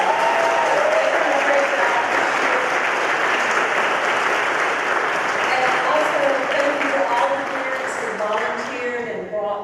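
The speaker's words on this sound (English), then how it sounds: "let's give these 2 ladies a big round of applause" A crowd at a senior class awards ceremony applauds loudly and continuously for nearly ten seconds, a dense wash of clapping that tapers slightly toward the end, with faint voices mixed in.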